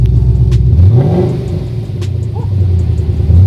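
A Ford Mustang GT engine starts through a newly fitted axle-back exhaust and rumbles deeply, with a throaty exhaust note that rises briefly and then settles into a loud, steady idle.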